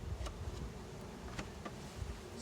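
Honey bees from a newly installed package hum around the small entrance of a new hive, a close, continuous buzzing drone with a few brief sharper ticks along the way.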